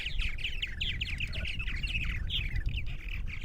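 Purple martins on eastern Long Island, New York, give rapid chirping, gurgling calls in quick overlapping bursts, close and clear over a low outdoor rumble.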